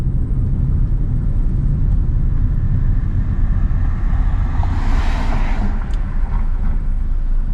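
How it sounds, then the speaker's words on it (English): A 2001-2005 Honda Civic engine idles quietly just after an oil and filter change, giving a steady low rumble with a brief airy hiss partway through. "When it idles, it actually stays a lot quieter."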